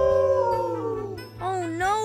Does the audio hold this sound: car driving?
no